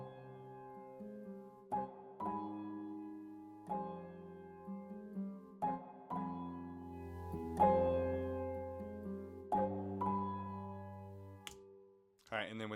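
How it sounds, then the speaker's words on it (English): Piano chords in a 1-6-4-5 progression for a melody, struck in a steady sequence of sustained chords about every one to two seconds, clear and alone, with no voices. "And this is how the piano sounds."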